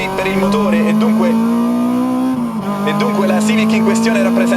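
A Honda Civic with a K20A2 engine borrowed from the EP3, fitted with a Skunk2 Pro 70 mm throttle body, runs with a loud, steady, sustained engine drone and a slight pitch dip midway.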